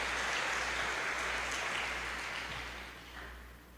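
A church congregation applauds with soft, dense clapping that sounds somewhat distant, holds steady and then slowly fades.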